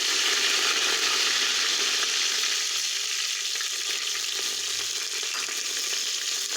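Cumin seeds fry in hot oil as the tempering for a horse gram dish, a steady, loud, dense sizzle that holds evenly throughout with no talking.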